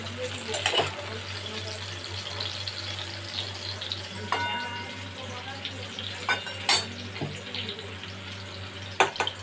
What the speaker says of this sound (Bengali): কুমড়োটা আমি ভেজে নিচ্ছি